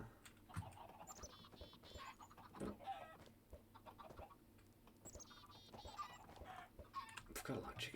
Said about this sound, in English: I've got a lot of chickens now.